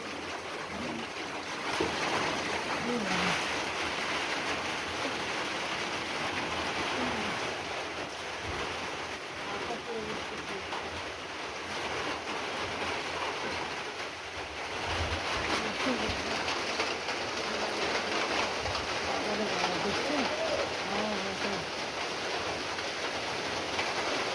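Steady, dense rain with gusting wind roaring continuously, a constant wash of noise throughout with no voices.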